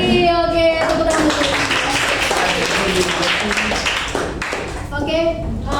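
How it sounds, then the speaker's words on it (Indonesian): A classroom of students applauds a classmate, a burst of scattered clapping at moderate distance mixed with voices and chatter, with a teacher talking at the start and end. "tepuk tangan buat Steven"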